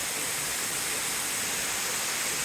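A waterfall in eastern Pennsylvania roars as a dense, even rush of falling water, steady and loud throughout with no pauses or voices.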